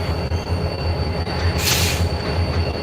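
A Canadian Pacific heritage-painted 7015 locomotive leads a Norfolk Southern freight past a cliffside, its wagons rumbling loudly and close with a piercing wheel squeal swelling midway through, no voices.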